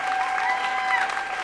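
At a tap dance festival, an audience briefly breaks into steady applause, joined by a thin sustained tone that sounds like a whistle or voice.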